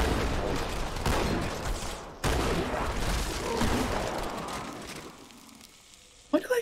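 Dense gunfire from the Halo 2 video game, a steady roar of overlapping shots for about five seconds that thins out, then a final loud burst at the end.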